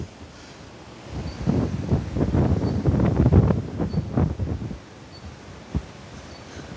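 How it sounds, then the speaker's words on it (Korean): Strong gusts from Typhoon Maysak buffet the microphone outdoors, a steady roar swelling into heavy rumbling bursts midway before easing off, with no talking. "바람이 굉장히 세거든요."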